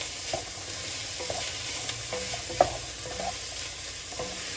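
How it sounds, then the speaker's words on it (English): A heaping teaspoon of garlic sizzling in a soup pot as it is stirred around, a continuous close frying hiss broken by light, regular scrapes and taps of the spoon. "Good heaping teaspoon of the garlic going in. Get that worked around."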